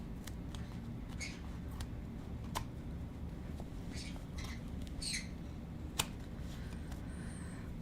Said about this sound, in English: The birdies don't know how to be good, Candace.